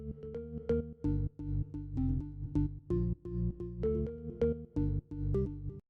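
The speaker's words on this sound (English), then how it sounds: "so the organ sounds like this." A simple looping organ pattern from a dance house track built in FL Studio plays alone, punchy stabbed chords in a steady rhythm with short gaps between hits, bright and upfront with a soft reverb tail.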